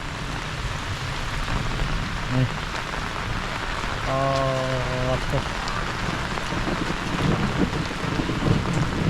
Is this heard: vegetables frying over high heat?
no